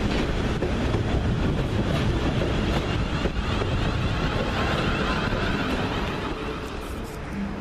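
Train pulling into Basingstoke station, a service terminating from London Waterloo, a steady loud broadband rumble of wheels and rail noise with wind buffeting, continuous throughout and easing slightly near the end.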